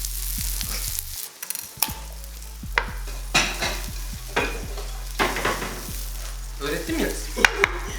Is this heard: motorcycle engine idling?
no